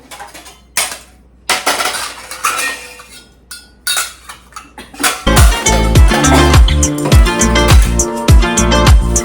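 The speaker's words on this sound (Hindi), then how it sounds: "अब मैं पूजा के रोज़ में इस्तेमाल आने वाले बर्तन को धो रही हूँ।" Daily brass puja utensils being washed by hand, with sharp metallic clinks and clatters of pots and plates knocked together, sparse at first and then a dense, loud run of clanging and scraping near the end.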